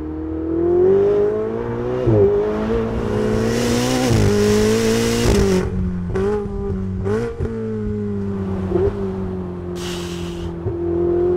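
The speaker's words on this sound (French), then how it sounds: "on est plaqué au siège à la moindre accélération, que je ne vais pas tarder à vous montrer" A Ferrari 488 Spider accelerates hard in repeated pulls, its engine note climbing and dropping sharply with each gear change, loud and close from inside the open car, with bursts of wind rush between shifts and no talking.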